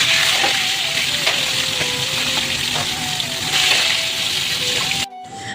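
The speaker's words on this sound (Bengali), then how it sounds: "আর দেখো মাছগুলো ভাজতে বসিয়ে দিয়েছি" Small chuno fish sizzle steadily in hot oil in a pan, a loud continuous hiss and crackle that cuts off sharply near the end.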